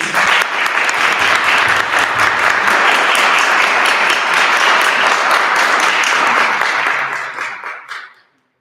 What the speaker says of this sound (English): if you give the candidates a round of applause